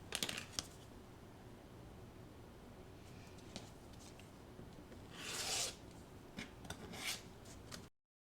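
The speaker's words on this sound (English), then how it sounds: "And now I'm going to trim on the dark line here all the way around." Scissors or a cutter trimming quilt fabric along marked lines for half square triangles, soft rasping cuts with a few louder snips, close and quiet over faint background hiss.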